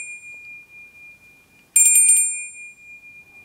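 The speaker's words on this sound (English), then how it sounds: "my altar bell, which I wanted to show you this." A small altar bell is struck once against near silence, giving a bright, clear ring that fades slowly over about a second.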